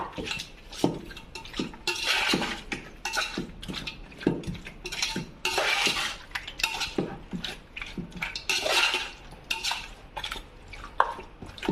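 Metal spoon scraping and clinking against a pot while chicken dum biryani with lemon is stirred, a busy run of repeated close scrapes and knocks with no talk.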